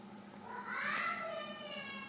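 Domestic cats meowing indoors, a single drawn-out, rising and falling meow standing out clearly against a quiet room with faint background hum.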